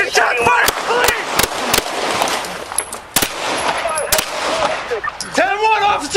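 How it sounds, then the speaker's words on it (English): Police officers exchange gunfire inside a station, recorded on a bodycam: a rapid series of loud, sharp shots in irregular bursts, with shouting voices between and over the blasts. "The squad port echoed with gunfire as officers returned fire."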